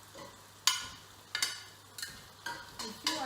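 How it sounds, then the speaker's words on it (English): Beef pieces go a few at a time into a hot Nigerian pepper sauce, each drop giving a soft splatter and sizzle; five or six distinct hits, faint and close, with a low steady hiss between. "The sauce is ready, so I'm going to throw in the beef"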